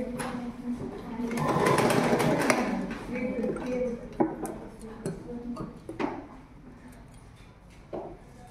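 A sewing machine stitches a uniform nicker, whirring in a steady run that swells and fades over several seconds, then breaks into short bursts and light ticks.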